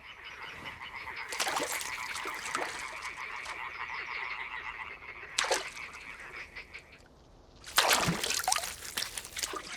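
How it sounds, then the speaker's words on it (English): Chorus of male tree frogs calling in an isolated spot free of noise pollution, dense rapid croaking pulses repeating steadily with louder bursts near the end, alongside faint trickling water. "captures tree frogs alive in isolated places with no noise pollution"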